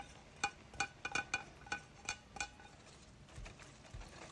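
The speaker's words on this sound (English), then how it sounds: "I'm going to stir everything around" Metal utensil scraping and clinking against a dish while stirring shrimp with minced garlic and red pepper flakes, a run of sharp close taps at an irregular rhythm that fades into softer rustling.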